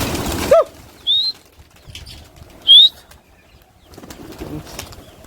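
Pigeons taking off, with a few short bursts of flapping wings and high chirps at close range, separated by quiet gaps.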